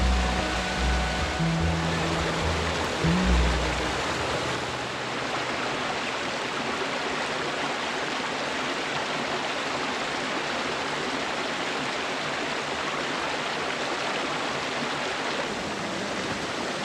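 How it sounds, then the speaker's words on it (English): Steady rushing water pouring over rocks in a canyon, a continuous broadband wash with a few brief low tones near the start, then unbroken flow to the end. "Water moving through the rocks, wind in the oaks"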